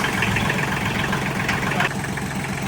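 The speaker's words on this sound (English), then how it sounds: "now the engine's running, we're going to check for leaks" An ISEKI TH4335 compact tractor engine idles steadily just after an oil change, a close, loud, even running drone with no talking.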